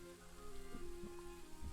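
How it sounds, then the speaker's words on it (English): Steady rain falling in the woods in the Pendragon video game, a soft continuous patter with a few louder drops, alone with no voices. "The rain doesn't seem to be stopping."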